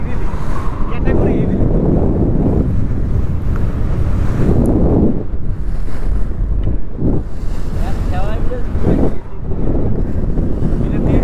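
Rough waves and strong wind on the Payra River at Taltali, a loud, continuous roar of wind buffeting the microphone with surging water washes swelling and fading, and no clear talking.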